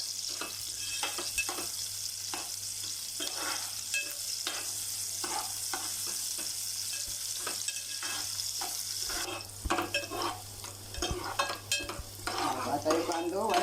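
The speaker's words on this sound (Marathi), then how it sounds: "कांदो व्हाईट गुलाबीच्या रंगावर परतायचो." Chopped onion sautéing in a pan for Malvani mackerel curry, with a continuous close sizzle and regular stirring scrapes, then louder clattering and spoon knocks near the end, and no voices.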